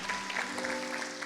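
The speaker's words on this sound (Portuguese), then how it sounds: "Você pode aplaudir ao Senhor" Brief applause from a church congregation, a dense, even patter of many hands over sustained background music.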